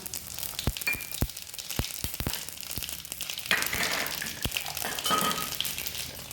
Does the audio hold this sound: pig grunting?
no